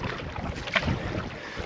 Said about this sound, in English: Another gust coming, you see it?